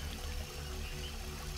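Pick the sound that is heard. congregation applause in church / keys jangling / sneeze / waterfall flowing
waterfall flowing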